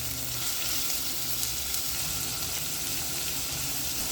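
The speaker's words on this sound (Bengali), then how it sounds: "তেল দিয়ে পেঁয়াজ দিলাম," Onions sizzling in hot oil in a home kitchen pan, a dense, steady frying hiss that stays loud and even from start to finish with no talking.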